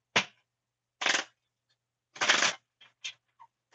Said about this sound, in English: I'm going to pull a few cards for you